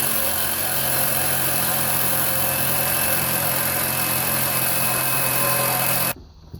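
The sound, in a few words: truck engine idling and running roughly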